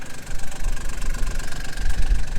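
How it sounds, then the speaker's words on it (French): A tractor engine runs close by at an agricultural show, a loud, lumpy low rumble with an uneven knocking throb and steady mechanical vibration, with no voices over it. "regardez ce tracteur à côté desquels on est en train de passer"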